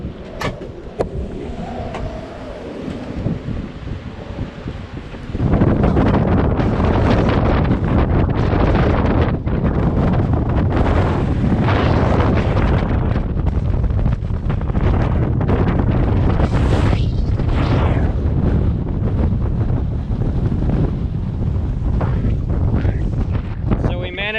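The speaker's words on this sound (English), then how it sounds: "the winds are screaming." Strong wind roars and buffets the microphone continuously on a boat at anchor off Santa Rosa Island, a loud rushing gusty noise with waves and muffled talk beneath it.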